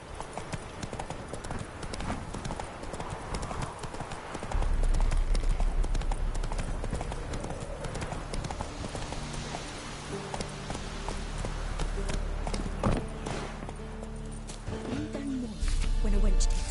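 Horse hooves clip-clopping at a gallop in The Witcher 3, a steady loud rhythmic pounding that carries through the whole stretch with game music and ambience underneath.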